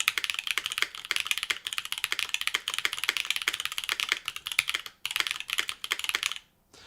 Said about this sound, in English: GMK keycaps, polycarbonate plate, and I isolated this with stab shims, believe it or not, from the tray mount.